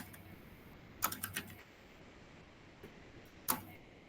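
Quiet keystrokes on a computer keyboard while writing code, a short cluster of taps then a single later tap against a faint room hiss.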